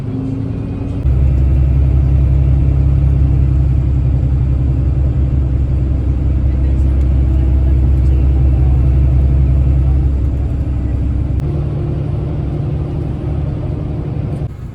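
A crowded, air-conditioned bus drives through Tenerife. A loud, steady low engine rumble and road drone fill the interior, with a constant whir on top and a slight shift in pitch near the end.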